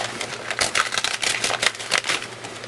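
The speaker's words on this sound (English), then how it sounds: "Let's get rid of that freezer paper." Freezer paper is peeled off marine vinyl after embroidery on a Brother machine, giving a close, continuous crackling rustle with quick ragged bursts, loud and with no voices.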